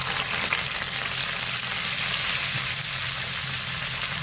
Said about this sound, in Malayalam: ഇനി ഞാനത് എണ്ണ ചൂടായിട്ട് അപ്പോൾ അതിലേക്ക് ഇട്ട് കൊടുക്കാൻ വേണ്ടി പോവാണ് കേട്ടോ